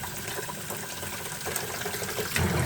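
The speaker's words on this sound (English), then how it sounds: "And then I fill the bucket." A bucket fills from a tap with lukewarm water, a steady close rushing and splashing stream that holds throughout and swells slightly toward the end, with no voices.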